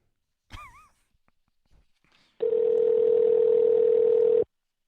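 A telephone dial tone on an outgoing call sounds as a steady, clear, unbroken tone for about two seconds, after a brief breath and faint handling noise.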